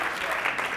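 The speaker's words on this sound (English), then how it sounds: "Give Alex a round of applause" Brief burst of audience applause at an event, dense clapping heard for under a second, fairly loud with no talk over it.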